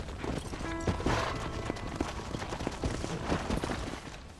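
Horse hooves clip-clop at a steady trotting pace in Red Dead Redemption, with continuous ranch ambience around them, moderately close.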